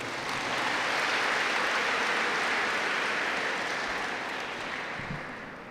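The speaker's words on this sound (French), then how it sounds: "Applaudissez pour vous-même." Congregation applause during a Catholic mass for a catechumens' retreat, a dense, sustained roar of clapping that holds steady for several seconds before slowly tapering off.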